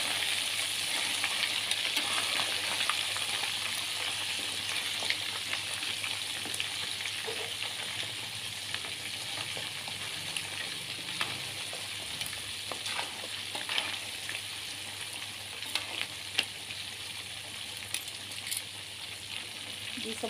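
Steady crackling sizzle of food briefly frying in a pan, continuous and close, with occasional small pops and clicks of stirring.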